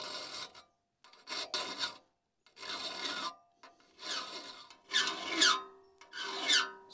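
A hand file rasps across the teeth of an old cross cut saw during sharpening, in six separate strokes with short pauses between them, close and clear with occasional squeaky overtones.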